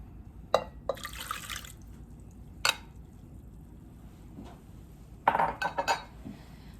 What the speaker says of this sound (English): Into my pot with my butter, I'm going to add my salt and my liquids.